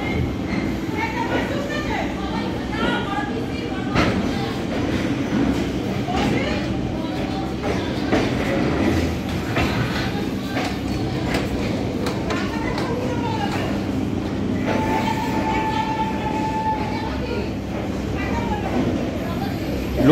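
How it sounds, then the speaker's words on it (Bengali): A local train running after leaving the station on the way to Krishnanagar gives a continuous low rumble with rhythmic clatter, heard from inside the carriage alongside background voices. "কৃষ্ণনগরে অবশেষে আমাদের ট্রেন ছেড়ে দিল।"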